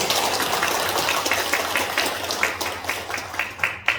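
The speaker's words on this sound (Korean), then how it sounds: "박수를 우리 격려의 박수를" A church congregation in Cheonan claps in encouragement during a Sunday service, a steady wash of many hands with some sharper individual claps standing out near the end.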